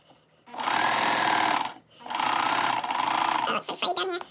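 A sewing machine stitching a crotch seam on a pair of pants runs in two loud, close bursts of rapid whirring with a short pause between, then stops near the end as a voice begins to speak.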